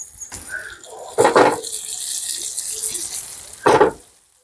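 Crackling oil sizzle underneath as pink perch fries, broken by a few louder splashy bursts and clatter, close by.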